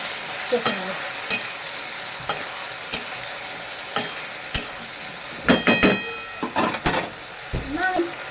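Water and spice paste hit a hot pan for a bitter gourd curry cooked in fish oil, giving a close sizzle broken by sharp clinks and scraping stirs, with a brief voice partway through.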